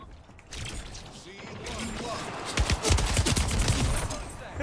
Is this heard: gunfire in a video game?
yes